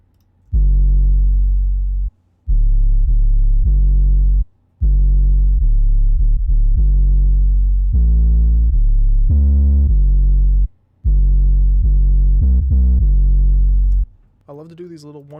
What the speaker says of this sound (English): Finally, we got the sub bass, and that sounds like this.